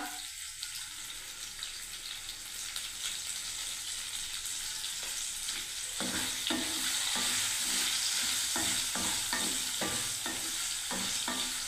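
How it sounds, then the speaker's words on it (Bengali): Paneer fries in a pan with a steady, fairly quiet sizzle, and in the second half a spoon scrapes and stirs in a regular rhythm close by, with no talk. "লাল লাল করে ভাজবো"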